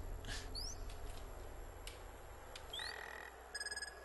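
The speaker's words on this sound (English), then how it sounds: "Tree frog." Sampled tree frog effect from The Colonel's Bequest played on an MT-32: quiet, scattered chirps and rising squeaky calls over a low hum, ending with a short rapid trill of pulses.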